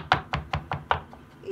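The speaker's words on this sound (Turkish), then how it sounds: "iyice minik minik patlıcanlarımı doğrayıp beğendiği için hazırlıyorum" Roasted eggplant is chopped into small pieces, giving about five evenly spaced, sharp knife strikes against a board, close and distinct, followed by a brief pause.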